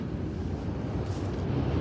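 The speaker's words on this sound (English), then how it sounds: "The train is coming, you guys, so it's gonna be loud." A train passes close by during an outdoor dumpster-diving trip, giving a loud, steady low rumble that fills the whole stretch without a break.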